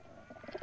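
Pigeons coo softly in a brief burst of low, throaty murmurs, faint and close against a dull background, in a scene where birds are being fed.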